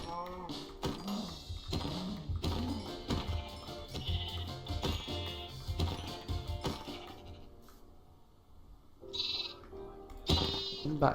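Sheep in Minecraft bleat several times in short, wavering calls, fairly close, over background sounds, with some talking in between.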